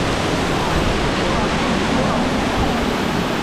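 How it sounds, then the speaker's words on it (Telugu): Amboli waterfall in Maharashtra, heard as a loud, steady roar of rushing water that fills the whole stretch without a break. "Amboli water falls, remember it, take got it."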